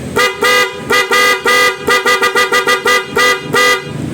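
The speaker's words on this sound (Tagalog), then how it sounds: "loud horn." An aftermarket Hella horn on a Yamaha Sniper 155 motorcycle blares close and loud in a rapid series of short and long honks with a bright, harmonic tone, and no voices.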